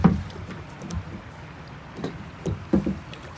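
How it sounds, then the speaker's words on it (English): Kayak paddle strokes dip into calm water, a few soft splashes and drips spaced irregularly, close and fairly quiet with light wind noise. "I'm going to make myself turn to the right by just paddling on the left."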